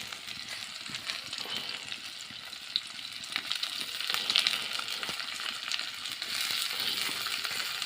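Leafy greens fry in mustard oil with garlic, chilli and onion in a pan on an outdoor clay stove, giving a steady close sizzle with occasional metallic clinks and scrapes from stirring.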